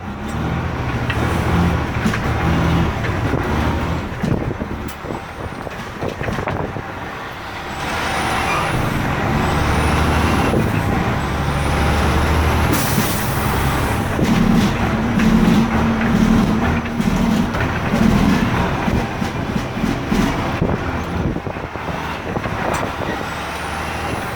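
A heavy 13-speed truck engine rumbles loudly and steadily in Jamaica, its pitch rising and dropping as it works through gears, with a hiss of air brakes near the middle.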